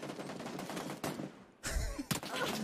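Rapid automatic gunfire bursts in the battle royale game PUBG, loud and dense with sharp broadband crackle, a brief lull midway before heavier close-range shots resume.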